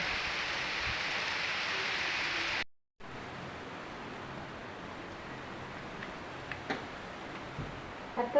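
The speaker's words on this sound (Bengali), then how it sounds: "এত জোরে বৃষ্টি হচ্ছে" Heavy rain pours down in a steady, dense hiss that cuts out briefly, then continues a little softer with a few faint ticks and taps, and no one speaks.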